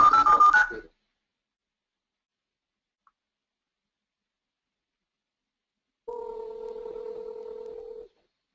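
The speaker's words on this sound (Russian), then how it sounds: "Звонок своему коллеге, либо просто звонок на любой телефон" An office IP telephone call: a short burst of dialing tones, a long silence, then a steady two-tone ringback signal for about two seconds, clear and close.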